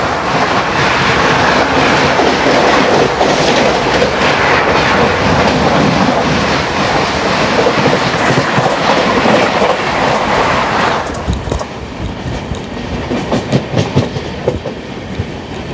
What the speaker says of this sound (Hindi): आ रही है अगस्त क्रांति तेजस राजधानी